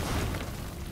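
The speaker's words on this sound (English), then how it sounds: "Two guys dive away from the explosions." Explosions in the video game Metal Gear Survive, a dense low booming rumble sustained for about a second, loud and close with no talk over it.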